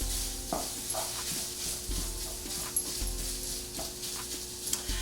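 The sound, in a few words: sausage browning in a pan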